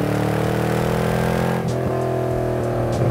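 A De Tomaso Pantera engine revs loud and close, its deep harmonic roar rising and falling through a few blips of the throttle, with no talk over it.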